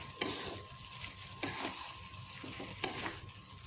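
Sliced beef sizzles steadily in a hot frying pan while a utensil scrapes and stirs, with a few sharper clacks against the pan.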